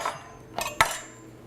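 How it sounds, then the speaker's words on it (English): A big kitchen knife comes down on a garlic clove with a sharp smack on the board, preceded by a lighter clatter of the blade, close and dry with no talking. "And I'm going to take a clove of garlic. Let me grab a big knife. Give it a smash."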